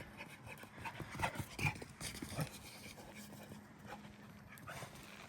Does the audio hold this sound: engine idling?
no